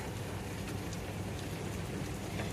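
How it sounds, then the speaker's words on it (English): Steady rain falls during a drought-breaking Texas shower, a dense, even hiss of drops on surfaces that continues without pause from start to finish, fairly close and moderately loud. "It's raining."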